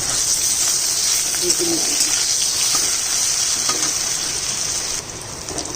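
Potato pieces frying in hot oil right after a batch of fish, giving a steady, dense, close sizzle that holds at an even level throughout with no talking over it.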